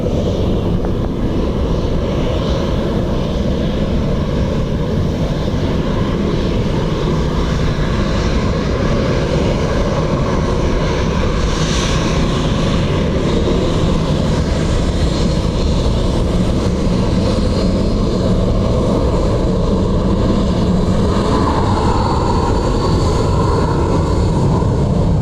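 Airplane engine roar at Dublin Airport, a loud, broad and steady rumble from a fixed-wing aircraft that lasts the whole stretch, with no voices over it.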